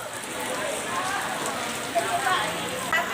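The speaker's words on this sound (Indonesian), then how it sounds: "Masih hujan, Bu. Masih hujan." Steady rain falls outdoors near a leaking roof at a bakso eatery, a dense even hiss of drops with a few louder patters, while people talk faintly in the background.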